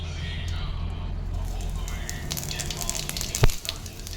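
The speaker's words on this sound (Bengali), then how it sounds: "এটা গরম হয়ে গেছে, এবারে ফোড়নে দিব 1/2 চামচ জিরে।" Cumin seeds dropped into hot oil in a kadai for tempering crackle and sizzle close by, with a sharp clatter near the end and a voice talking over it.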